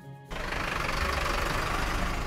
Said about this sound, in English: However, the sound of this engine